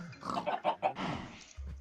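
Pig oinking in the Minecraft video game, a short series of about four clipped grunts in quick succession, fairly close and clear, with no talk over them.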